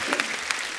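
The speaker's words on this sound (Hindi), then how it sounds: "इनके लिए जोरदार ताली हो जाए यार।" A burst of audience applause at an Indian comedy show, many hands clapping loudly and densely for under a second with a few sharper claps standing out.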